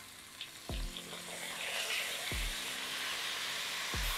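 Pumpkin stir-fries with browned garlic and soy sauce in a hot pan, a loud steady sizzle broken by three dull thumps of the spatula at regular intervals.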